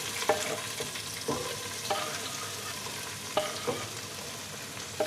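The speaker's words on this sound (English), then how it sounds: "once you've chopped your leek, now you just add it to the oil in the pan." Chopped leek sizzles in hot oil in a pan, a steady moderate crackle broken by a few sharp stirring knocks at irregular intervals.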